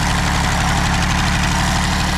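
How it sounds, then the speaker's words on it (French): Rebuilt Peugeot 103 moped engine idling, a steady loud two-stroke drone with fine rapid pulsing, close up and unbroken, with no voices. "Voilà, le moteur tourne."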